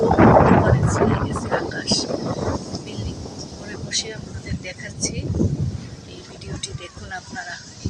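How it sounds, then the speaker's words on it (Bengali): A storm with wind and rain sets in under a dark, cloud-covered sky: strong gusts buffet the microphone in heavy rumbling bursts, easing and surging again, while a person talks over the roar. "ঝড় বৃষ্টি শুরু হচ্ছে প্রচুর ঝড় বৃষ্টি"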